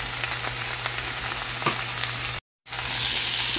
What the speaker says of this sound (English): I'm gonna just saute all this together.